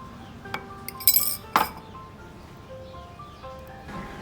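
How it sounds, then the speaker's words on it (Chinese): Pink iced milk poured into a glass of ice cubes, with sharp clinks of ice against the glass and a short splashy pour, close and fairly quiet, with no voices. "把刚刚做好的粉红色冰奶倒进去"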